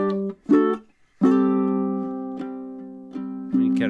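A ukulele plays the opening of a song: a few short plucked notes, then a sustained ringing chord with a melody note, close and clear, with no talking.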